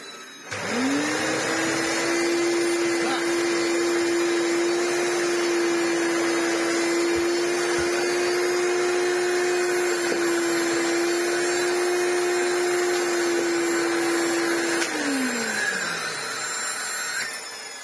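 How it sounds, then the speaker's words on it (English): A small Greenote GCH01 7-volt cordless handheld vacuum motor spins up on its normal setting, holds a steady high-pitched whirring drone for about fifteen seconds, then winds down. "grab the Greenote micro vacuum and turn it onto its normal setting"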